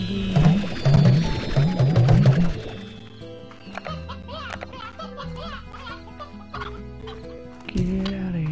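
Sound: chickens clucking in Slime Rancher video game

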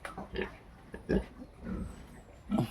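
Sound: sow (mother pig) grunting in farrowing pen

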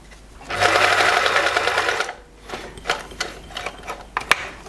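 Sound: Privileg 865 sewing machine sewing a straight stitch

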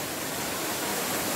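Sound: waterfall at Tumpak Sewu, Java

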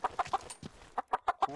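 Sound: chickens clucking

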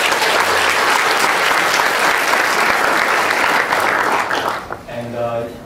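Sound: audience applause congratulating winning teams

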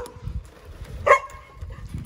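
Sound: puppies barking in a dog kennel

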